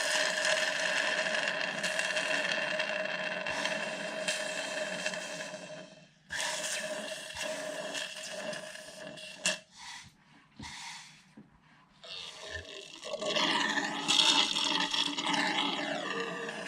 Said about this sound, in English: We can suck out that little bits of oil